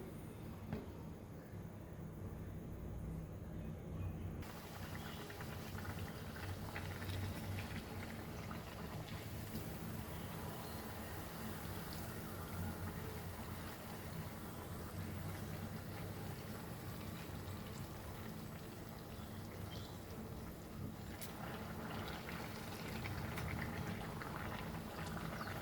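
Goan banana buns sizzle in hot oil as a steady, dense crackle and bubble that holds close and even for the whole stretch, with no talk over it.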